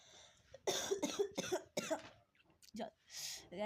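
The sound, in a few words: cough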